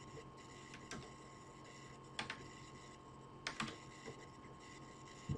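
Keys tapped on a computer keyboard while a credit card number is entered, heard as a few sparse, faint clicks spaced out over a steady quiet hum, with no talking.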